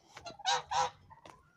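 Domestic geese in a farmyard pen give a short burst of close honks, two loud nasal calls flanked by softer ones, with no talking.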